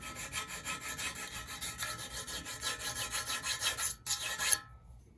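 Rasping strokes of a hoof trimming loop knife being sharpened with repeated rubs, a steady run of close, even scraping passes that ends abruptly into near silence.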